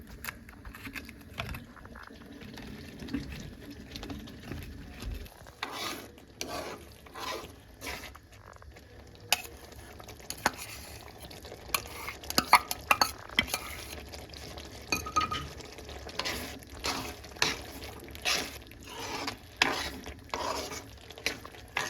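Mashed chickpeas stirred and fried in a pan for a spinach and black chickpea masala, with scraping strokes of a spoon, clinks and a soft sizzle running close and steady throughout.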